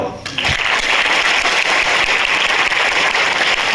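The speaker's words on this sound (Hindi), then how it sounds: "ताली बजाओ" Audience applause at a motivational talk, a dense, loud wash of many hands clapping that starts abruptly and holds steady.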